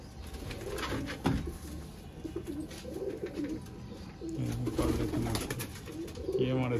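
Baby pigeons coo softly and repeatedly amid a busy outdoor background, with occasional flutters and faint voices nearby.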